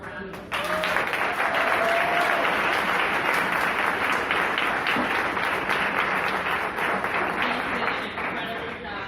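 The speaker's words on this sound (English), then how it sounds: "can we give all 6 groups a round of applause?" An audience at a youth pitch competition gives a loud, sustained round of applause, steady and dense for several seconds before easing slightly near the end.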